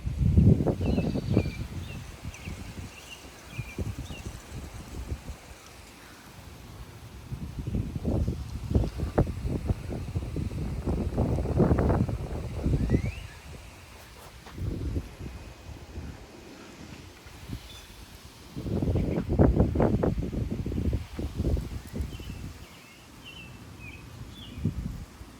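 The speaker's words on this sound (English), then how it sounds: "Let's see if we can get a swishing noise out of the cypress." Gusts of 30 mph wind sweep through a bald cypress in Frisco, Texas, making surging swishes that rise and fall in several waves, with faint birds chirping in the background.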